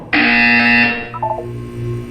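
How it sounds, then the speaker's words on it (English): A loud electronic buzzer in the video game Portal 2 sounds once as a sustained harsh tone lasting about a second, then fades into a few softer electronic blips. "When you hear the buzzer, look up at the ceiling."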